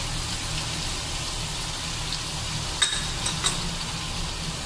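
Potato and eggplant curry with tomato, salt, turmeric, cumin and red chilli powder sizzles steadily in a pan, with a few brief clinks of stirring and no talking.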